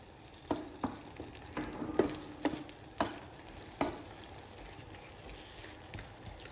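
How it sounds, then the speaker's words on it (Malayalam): Vadukapuli lime pickle mixture starting to boil in a pan, with a soft steady sizzle and bubbling and several sharp stirring clinks spaced through the first four seconds, then quieter simmering. "സൈഡൊക്കെ ഒന്ന് ചെറുതായി തിളച്ചു തുടങ്ങി"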